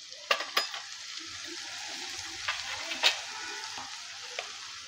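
Chilli powder and other spices fry in a pan for a chicken bharta, a soft steady sizzle with a few sharp clinks of a spoon stirring, close and quiet.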